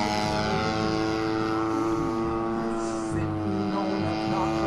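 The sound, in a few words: radio-controlled Edge model airplane flying, propeller motor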